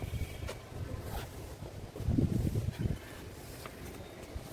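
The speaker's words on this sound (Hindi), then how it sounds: "बहुत सोहनी नेचुरल हवा चल रही है एकदम" Wind blows across the open grounds of Gurudwara Manji Sahib in Jind, Haryana, beside a mustard field. The low gusts are faint and uneven, with a stronger buffeting burst midway.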